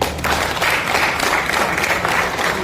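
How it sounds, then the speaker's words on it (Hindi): Audience applause at a gathering of Ambedkarites celebrating a street naming, a loud continuous roar of many hands clapping at once that swells after a brief start and holds steady throughout. "जोरदार तालियां।"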